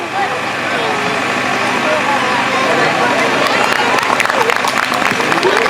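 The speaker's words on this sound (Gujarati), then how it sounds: "ખૂબ ખૂબ તાળીઓના ગડગડાટથી વધાવીએ." Audience at a school annual function breaks into sustained applause, a dense wash of clapping that swells louder toward the end, with crowd murmur beneath.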